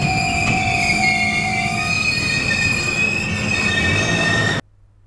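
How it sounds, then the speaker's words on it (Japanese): Freight wagons on an elevated siding start moving in a propelling move, with the loco pushing. Loud wheel squeal and rail rumble run steadily for several seconds, then cut off abruptly. "今度は貨車の先端に乗った走車係の指示のもと、推進運転で走り出します。"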